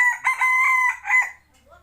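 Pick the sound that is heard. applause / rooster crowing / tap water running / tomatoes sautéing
rooster crowing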